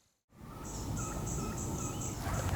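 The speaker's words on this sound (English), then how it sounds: "There are literally turkeys everywhere. They're all around us right now." Wild turkeys in fall woods near a hunting blind give a rapid, rattling gobble after a brief silence, faint and somewhat distant over quiet outdoor background.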